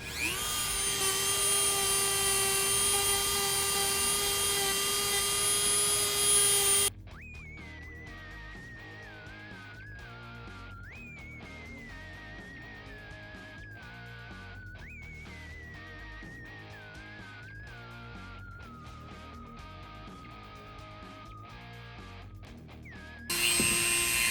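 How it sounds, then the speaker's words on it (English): A Dremel rotary tool whines loudly at the start and the end while working a part for a Lawgiver replica prop, with a quieter stretch of scraping and handling between the two bursts. "Then we're going to go ahead and run the Dremel tool on that."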